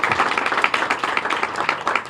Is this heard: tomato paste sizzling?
no